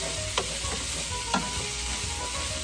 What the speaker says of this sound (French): Là, je vais faire cuire ma viande avec mes poivrons.